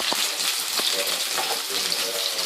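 Chicken balls frying in hot oil, a dense, continuous sizzle and crackle heard up close, with a few soft stirring knocks beneath it.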